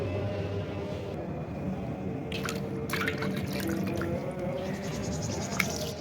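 Dirty wash water is tipped out of a bucket in a home laundry setting, running and dripping steadily over several seconds with splashy spatters, fairly close and without talk.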